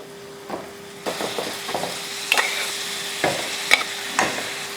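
Mutton pieces are added to a spiced pan and stir-fried, with a constant sizzle under repeated scraping stirs and occasional metallic clinks of the spoon against the pan.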